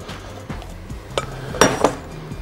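A plant-protein salad gets a final toss in a bowl, giving soft clinks and a few sharper clatters of utensils against the dish over two seconds.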